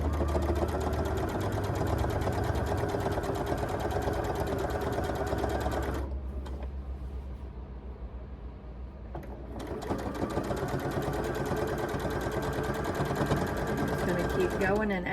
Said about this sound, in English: I'm going to take my binding and just stitch it along the side at 1/4 inch.